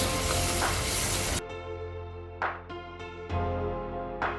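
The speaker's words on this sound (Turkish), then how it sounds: "Şimdi ben unumu ekliyorum. Güzelce kavuruyoruz." Butter and flour sizzle steadily in a pan, with a few sharper crackling bursts rising over the continuous frying hiss, close and fairly loud.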